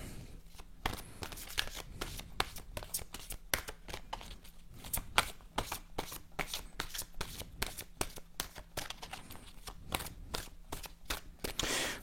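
Oracle cards from Lucy Cavendish's Oracle of Shadows and Light deck being shuffled, a steady run of quick, crisp riffling flutters close up, repeating for the whole stretch with only faint background murmur.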